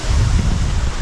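Water pours steadily from the stone spouts of the 108-spout bath at Muktinath temple, a loud continuous rushing and splashing close by with no talk over it.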